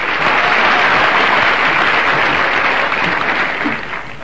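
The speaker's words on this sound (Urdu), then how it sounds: "آپ کی تالیوں کے بیچ" An audience at a mushaira poetry gathering in Amravati city bursts into loud, steady applause that holds for several seconds before beginning to fade.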